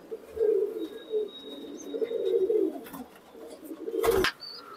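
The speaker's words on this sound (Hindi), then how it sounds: "ये देखें जी इनके बड़े मेन कबूतर" Teddy pigeons kept in a loft in R.S. Pura, Jammu, coo in low, repeated throaty phrases close by, with a brief sharp rustle near the end.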